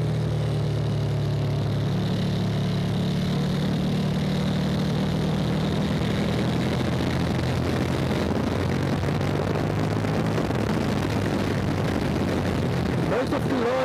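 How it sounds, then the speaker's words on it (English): A KTM 1290 Super Duke R motorcycle with an aftermarket exhaust runs its engine in a steady, fairly loud low drone. The pitch shifts slightly, and a rider's voice talks over it in the later part. "The aftermarket pipe, it's gonna be so loud"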